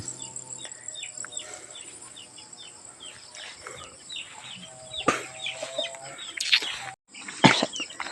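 Several hens cluck softly and intermittently over a steady farmyard background, with a few sharper calls and rustles near the end.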